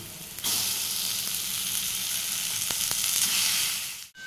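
Potato and carrot filling for aloo paratha sizzles steadily in a pan, a close, even frying hiss that holds throughout before briefly dropping away at the very end.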